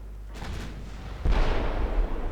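Battleship guns firing in the naval video game UAD: a muffled distant thud, then a heavy booming blast with a rolling rumble that lingers.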